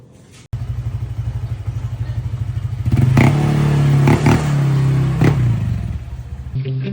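A motorcycle engine idles with a steady rumble, then revs up louder for a few seconds with clattering bursts before settling back.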